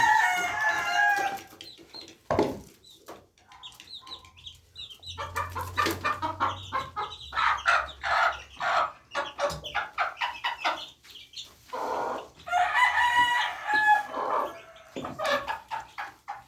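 A mother hen and her chicks cluck and peep steadily while feeding, with short bursts of clucking scattered across the scene, a rooster crowing in the background, and occasional close rustling.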